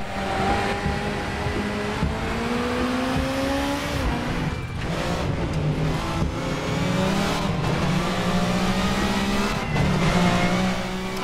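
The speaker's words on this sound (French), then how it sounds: "La voiture qui glisse énormément." Touring race car sliding at Oulton Park, engine revving hard and near with tires squealing under the slide, several gear changes breaking the continuous roar.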